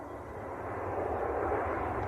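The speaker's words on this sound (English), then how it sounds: "Ryanair just touching down." A Ryanair jet from Milan touches down at Manchester Airport, its engine noise a moderate, steady rushing roar that swells slightly over the brief stretch, heard alone.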